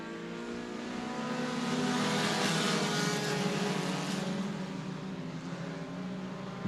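Pack of stock cars roaring off at the green flag on a dirt oval at Murray County Speedway, a loud continuous layered engine drone that swells and holds steady, with no talk over it.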